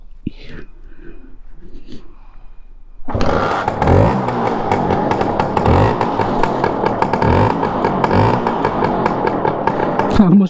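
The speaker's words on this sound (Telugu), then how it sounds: "సో దీన్ని ఇప్పుడు స్టార్ట్ చేసి దీన్ని ఎగ్జాస్ట్ నోట్ చూద్దాం ఎట్లుందో ఒకసారి." A vintage 1983 Allwyn Pushpak 150cc two-stroke scooter kicks into life after a few seconds of quiet whispering, then idles loud and close with a steady, buzzing, slightly rattly exhaust note.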